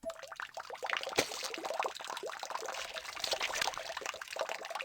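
Continuous wet gurgling and splashing of blood bubbling loudly, a dense churning liquid sound with a sharp splat near the start, close and unbroken throughout.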